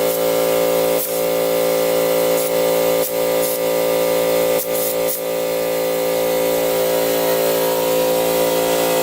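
Close by, a Honda CB350 motorcycle engine started on its electric start runs with a loud, steady hum and drone, broken now and then by short dips and knocks.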